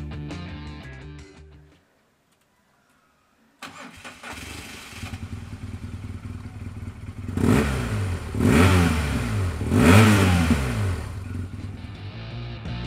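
A 2011 BMW R1200GS motorcycle engine starts after a brief silence, idles, then revs up sharply three times in loud, close bursts with no talk.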